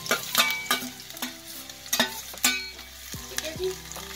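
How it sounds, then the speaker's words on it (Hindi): Onion and kebabs frying in hot oil, with a constant sizzle broken by a series of sharp, rhythmic clanks and scrapes from a spatula against the pan, close and fairly loud. "ऑयल हमारा गर्म हो चुका है। अब हम इसमें डालेंगे प्याज, ठीक है, और ये कुछ कबाब।"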